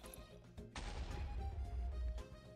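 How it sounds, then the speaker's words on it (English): Dynamite thrown by an explosive zombie from a Minecraft mod goes off in the video game: a sudden loud blast after a brief lull, its rumbling roar lasting about a second and a half before cutting off. "throws dynamite, so watch out for surprise explosions"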